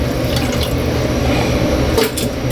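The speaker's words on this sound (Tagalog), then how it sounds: "Lagyan na natin ng tubig, Kaylee." Water gushes steadily into a cooking pot for pork nilaga, a loud, close, continuous pour with slight splashing and no voices over it.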